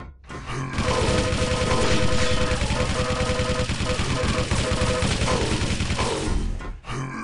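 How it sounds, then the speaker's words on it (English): Sustained machine gun fire in Quake Live during a Quakecon 2008 match, a dense, loud, rapid stream of shots running almost unbroken for several seconds before cutting off near the end. "ZeRo4 just gonna punish him for it with a machine gun"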